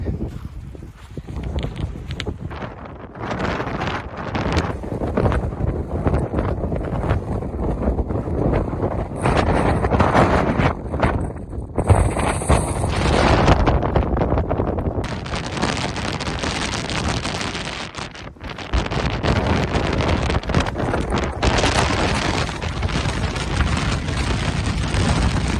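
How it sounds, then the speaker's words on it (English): Strong gusting wind buffets the microphone on a mountain ridge along the Southern Ranges, a loud continuous roar that surges and dips for the whole stretch. "It is crazy windy."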